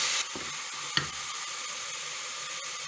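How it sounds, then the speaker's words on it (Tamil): Ginger garlic paste sautéing in hot oil for a mutton fry: a steady, fairly quiet sizzling hiss with a couple of soft spatula scrapes near the start. "அந்த ரா ஸ்மெல் போகிற வரைக்கும் வதக்கி வைக்கணும்."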